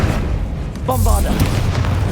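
A Bombarda spell explodes in Hogwarts Legacy as a deep, loud boom, with a shouted voice partway through and a rumbling tail.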